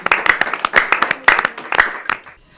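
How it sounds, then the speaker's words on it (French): Hand clapping from an audience at a Valentine's Day special broadcast, a short burst of sharp, uneven claps with a few individual strong hits, fading out toward the end. "En tout cas ça mérite des applaudissements"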